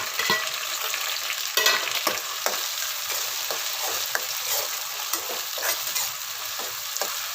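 A big chopped tomato frying with browned onions in a pan, with a steady loud sizzle close by and regular ladle scrapes and taps, no talking.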